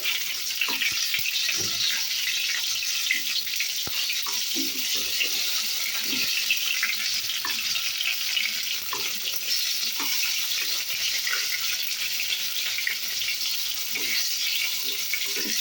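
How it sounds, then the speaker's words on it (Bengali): Chopped tomatoes fry in hot oil for a Bengali jackfruit and potato dish, giving a steady, close hiss of sizzling with small crackles and stirring clicks throughout, no voices. "প্রথমে দিলাম টমেটো কুচিটাকে ভালো করে একটু নেড়ে চেড়ে নিলাম"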